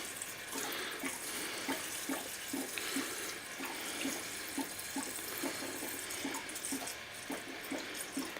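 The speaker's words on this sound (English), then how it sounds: "We're just going to put the alcohol in now" Alcohol pours steadily into a jar of figs, making a continuous, faint liquid splash and gurgle that lasts throughout. No one speaks.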